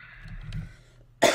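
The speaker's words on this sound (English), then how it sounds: "I have to cough, but I don't want to cough." A single sharp cough bursts out near the end, loud and close, after a quiet stretch of low murmuring noise.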